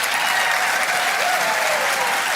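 Studio audience on a late-night talk show applauding and cheering, a loud, sustained wash of clapping that fills the whole stretch without pause.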